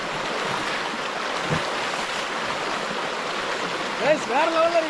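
River water rushes steadily nearby while someone bathes in the river, a constant broadband flow with a few splashes toward the end.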